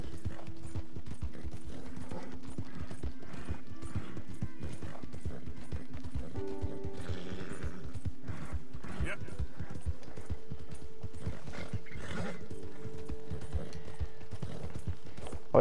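Horse galloping in Red Dead Redemption 2, rapid rhythmic clip-clop hoofbeats close and loud with occasional whinnies and other game sounds, a person talking over it.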